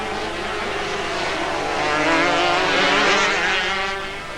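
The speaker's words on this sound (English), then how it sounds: "It's Irving and Delgado having a big race" Racing cars at the Zwartkop circuit in South Africa in 1984 roar past in a loud, sustained engine wail that swells and fades as they go by, with no talk.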